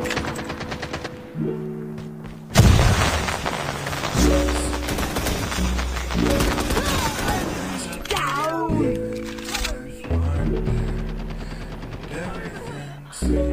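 Flashbang grenade going off in a ranked Search and Destroy video game match, a sharp loud bang followed by a ringing high tone amid rapid gunfire, with players shouting over it.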